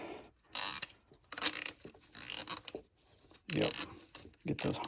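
A ratchet clicks in short, close bursts, tightening bolts on a Nissan Maxima after a radiator replacement. Quiet pauses separate the bursts, and a few soft voice sounds come through.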